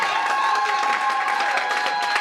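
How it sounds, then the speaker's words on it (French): Crowd at a Labour Day celebration clapping and cheering, a lively continuous burst of applause with whistling tones and excited voices mixed in. "Applaudissez encore."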